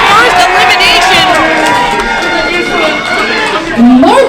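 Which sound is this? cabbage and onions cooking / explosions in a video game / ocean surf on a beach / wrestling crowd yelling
wrestling crowd yelling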